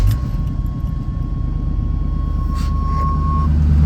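A 1989 Chevrolet Suburban engine with a custom-built exhaust idles with a steady low rumble and a faint tonal hum, running continuously and close by without any talk.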